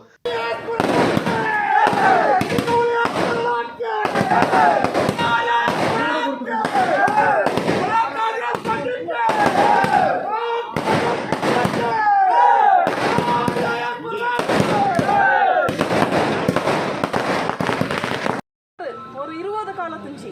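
Rapid, dense firecracker bursts crackle almost nonstop, loud and close, at a celebratory welcome for a legislator, with a crowd faintly audible underneath before a brief pause near the end.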